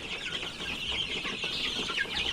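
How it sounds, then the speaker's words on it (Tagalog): Several chickens cluck steadily nearby, a continuous busy flock chatter with no one speaking, on a farm with a lanai. "Dami nating manok ngayon ha."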